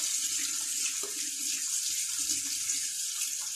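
Tap water runs steadily into a sink while salted fish is rinsed and cleaned by hand, a constant close splashing rush with faint handling sounds underneath.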